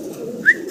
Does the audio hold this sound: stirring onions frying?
no